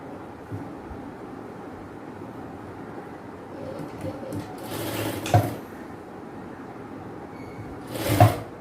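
A sewing machine runs a seam on palazzo pants, a steady low whirring drone with a couple of sharper clicks and thumps near the end.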